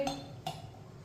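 Two quick metallic clinks a moment apart, like a spoon knocking against a pot while stirring masoor dal and water, with faint scraping in between.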